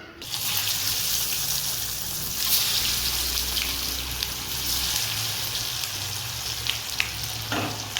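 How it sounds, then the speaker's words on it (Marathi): Kothimbir vadi, coriander fritters, frying in hot oil over a low flame, giving a steady, dense sizzle that holds from start to finish with a few small pops and crackles and no voices. "हे बघा तेल छान गरम झालंय, त्याच्यामध्ये आपण वड्या टाकून घेतल्या"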